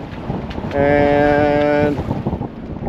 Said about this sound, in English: whoa, we're gonna get pretty windy out here